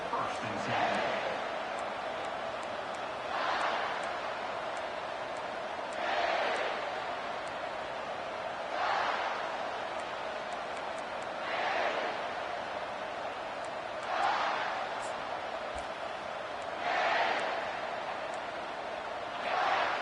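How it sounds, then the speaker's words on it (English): A college football stadium crowd at a Clemson game roars in waves to rattle the rafters and back the defense, swelling and falling roughly every few seconds beneath steady play-by-play commentary. "How about this crowd rattling the rafters and trying to help their defense?"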